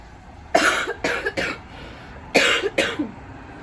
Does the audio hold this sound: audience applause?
no